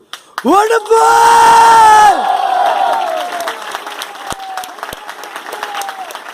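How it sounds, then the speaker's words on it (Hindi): At a Mumbai event, an audience shouts loudly together in long, sustained yells, then breaks into cheering and applause that fades to scattered claps and whoops. "ये जितने भी लोग पागलों की तरह चिल्ला रहे हैं ना"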